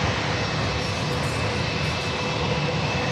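Airliner at San Diego airport, cleared for takeoff on runway 27, gives a steady loud roar of jet engines, broad and continuous for the whole stretch without any talk over it.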